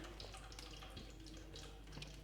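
Water swishing and splashing faintly as chicken wing pieces go into a bowl of cold water one by one, a soft, steady wet wash close by with no talking.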